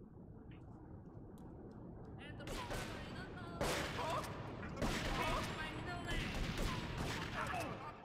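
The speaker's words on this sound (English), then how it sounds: "I will take shotgun to kill that guy" Gunfire in Grand Theft Auto III, including shotgun blasts, sounds as a series of loud bangs spaced a second or so apart over a steady game background, with a voice speaking in between.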